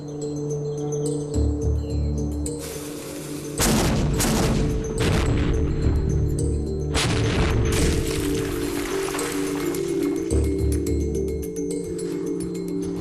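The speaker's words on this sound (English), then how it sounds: "Even small cannon fire can be devastating" Heavy booming blasts and crashing impacts from ship cannon fire roll out in bursts over a sustained rumbling din, loud and close, with gunfire-like cracks mixed in.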